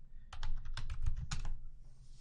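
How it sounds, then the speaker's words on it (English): Rapid keystrokes on a computer keyboard as a network show command is entered on a router, a close, steady run of clicks lasting under two seconds with no voices. "if you type show Cdp Neighbors from privilege mode"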